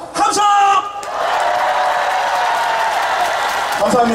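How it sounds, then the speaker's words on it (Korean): A crowd at the Goseong Hope Dream concert in Korea roars with cheers and applause, a brief voice rising at the start before a sustained, loud wall of shouting and clapping. "우리 다같이 고성 송악동 고분군의 유네스코 등재를 위해서 박수와 함성!"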